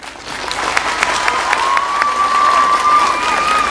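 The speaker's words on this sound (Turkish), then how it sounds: "Burada hep birlikte Sivas'a Güçlü bir alkış yapalım" A Turkish folk concert crowd in Maltepe, Istanbul, applauds steadily and loudly at a show, with a sustained whistle-like tone rising over the clapping throughout.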